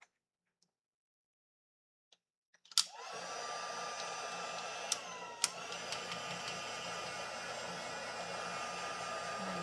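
A hair dryer switches on after a few faint clicks and blows steadily to dry dip-dyed paint, a loud continuous close whoosh with a couple of sharp taps during it.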